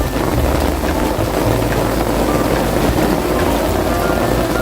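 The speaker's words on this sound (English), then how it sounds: "I just get to sit here and enjoy this little light rainfall" Light rain falls steadily around an umbrella outdoors at Disney World, a soft, even hiss of drops with a low background rumble and no voices.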